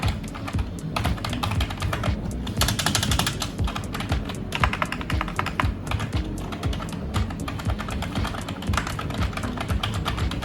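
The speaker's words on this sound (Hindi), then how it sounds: "ये जो कीबोर्ड है, जैसे मैंने आपको पहले बताया, एक सेमी मैकेनिकल कीबोर्ड है। सो भी आपको इसकी मैं जो साउंड है वो सुनाता हूँ।" Fast, continuous typing on a Cooler Master Devastator 3 semi-mechanical keyboard gives a steady clatter of close, crisp keystrokes with brief denser bursts and no talking.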